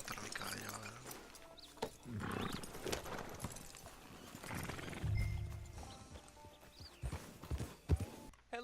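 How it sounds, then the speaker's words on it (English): Hoofbeats of a horse being ridden in Red Dead Redemption Online, clip-clopping in an irregular rhythm over a busy game soundscape, with snorts or whinnies and low rumbles rising midway. "Vamos a montar mi caballo ahora."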